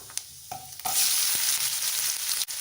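Small onions with dal and urad dal sauté in hot oil for a spinach-and-lentil kadaiyal. A few light taps come first, then the sizzle suddenly swells into a loud, dense hiss that holds to the end.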